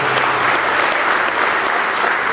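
Guests at a Christmas charity breakfast give a round of applause, a dense, loud and even burst of clapping from a crowd, with no talking over it.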